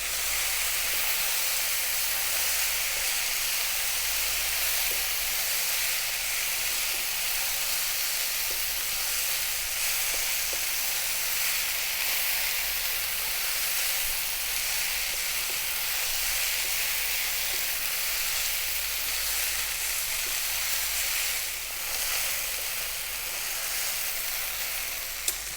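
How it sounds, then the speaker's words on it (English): Mushrooms and rice stir-fried in a hot pan over high heat make a continuous, even sizzle with soft hiss, punctuated by faint stirring sounds. No one speaks. "we're going to stir fry this again, staying on a really nice high heat for about 4 to 5 minutes"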